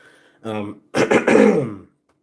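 Two rough throat clearings in quick succession, the second longer and harsher, close to the microphone.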